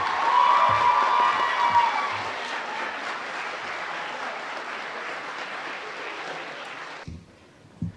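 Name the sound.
audience applause for a high school concert orchestra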